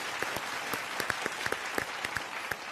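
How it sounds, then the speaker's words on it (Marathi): A stage audience claps loudly in quick, uneven bursts of many hands for several seconds, with a faint murmur underneath. "दीपिका खन्ना यांच्यासाठी जोरदार टाळ्या"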